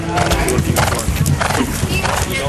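Horses being readied for a show warm-up, with close hoof clip-clops and whinnies that run through the whole passage, loud and near, while people talk over them.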